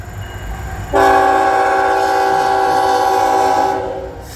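Norfolk Southern train 224 rolling past with a BNSF Warbonnet locomotive, its horn cutting in loud and close after a second of quiet rumble, a steady multi-tone blast held for about three seconds, then fading.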